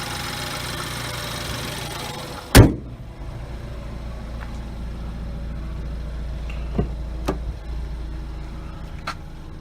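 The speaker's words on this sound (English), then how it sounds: "As it's starting to warm up, the idle's starting to come down." A car engine idles while warming up after a cold start, a steady low hum interrupted by a sharp loud knock or thump early on, then a few faint clicks over the continuing drone.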